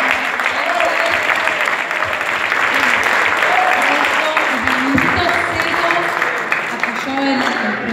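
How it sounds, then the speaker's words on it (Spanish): An audience applauds a producer at a film event, steady loud clapping filling the room for several seconds with faint voices and cheers mixed underneath. "¡Aplausos!"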